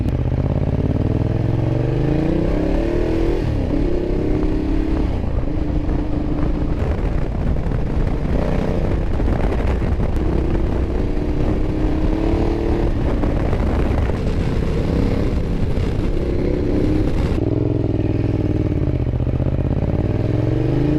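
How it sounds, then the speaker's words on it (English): 2012 Ducati Diavel motorcycle with a loud exhaust, riding in urban mode. A constant, heavy engine roar rises and falls as it revs, mixed with wind rush, and no voices are heard. "because of the loud exhaust and the aggressive tone"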